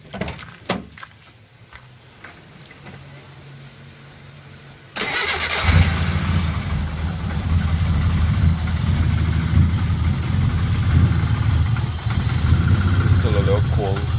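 Mitsubishi 4G92 car engine, just refitted with its manifold, cranks and catches, then settles into a loud, steady rumbling idle close by, after some quiet handling noises.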